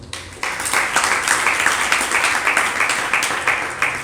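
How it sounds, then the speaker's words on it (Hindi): An audience breaks into applause after a pause, sustained crowd clapping, fairly loud and steady with rhythmic swells, filling a lecture hall. "आज ताली बजाने का दिन था आपका, तो आपने बजा लिया"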